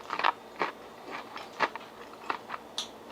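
Crisp crunching bites of double-fried Korean chicken wings and chewing up close, in a series of separate crackly bursts with short pauses between them.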